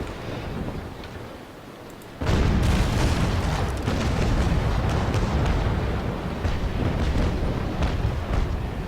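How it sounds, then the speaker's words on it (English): Cannon broadside from a sailing warship in the naval combat game Naval Action, erupting after a quiet stretch into a loud, sustained roll of overlapping booms and rumbling that lingers for several seconds with no speech. "Not a great broadside because I just eyeballed it."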